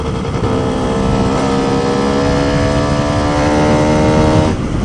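A Lambretta scooter fitted with an MMW KillerCase 260 Simonini engine runs under open throttle, a loud, steady, raspy two-stroke drone held high and close for several seconds before easing off at the end.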